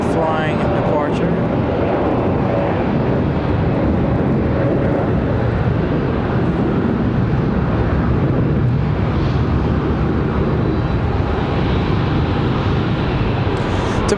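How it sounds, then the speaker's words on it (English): An airliner departs Charlotte Douglas International and climbs high, its broad, steady engine roar filling the whole stretch loudly and continuously, with a voice talking over it. "A nice, high flying departure."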